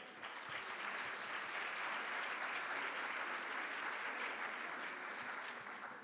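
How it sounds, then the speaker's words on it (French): An audience at a management conference applauds a speaker with a steady, even wash of many hands clapping that holds at a constant level throughout. "Je vous demande de l'applaudir bien fort."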